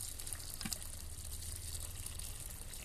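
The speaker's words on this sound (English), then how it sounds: "And open that valve. And that should now be draining the water down." Muddy water from an opened pond filter valve runs out in a faint, steady hiss and gush, like a quiet, continuous trickle, with a brief splashy burst near the start and no voices.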